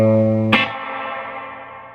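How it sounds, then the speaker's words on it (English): A sustained distorted guitar chord gives way to a sharp strummed hit that rings out with a long, washy reverb tail fading away, reverb turned all the way up, spaghetti western style. "now I have the reverb turned all the way up"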